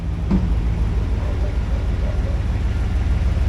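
A vehicle fitted with a custom-length driveshaft drives along with a steady, low engine and drivetrain rumble that is close and continuous.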